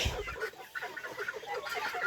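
Rooster from a different brood clucking in a chicken aviary, a few short close calls over a steady bed of other poultry noise.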